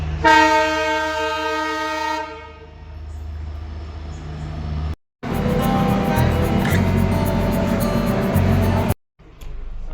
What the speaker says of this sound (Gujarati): ફાઇનલી અમે રેલવે સ્ટેશન ઉપર પહોંચી ગયા છીએ